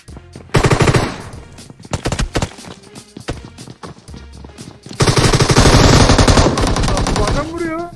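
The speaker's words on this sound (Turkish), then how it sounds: "Bu adam vuruyor." Video-game gunfire: a loud machine-gun burst, then scattered single shots, then a long rapid automatic volley that rattles on for several seconds before it cuts off.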